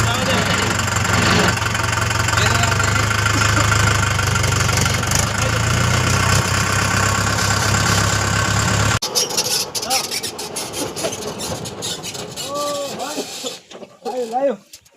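A tractor engine runs with a loud, steady, rough mechanical drone, then it drops away and people talk over a fainter, uneven rattle.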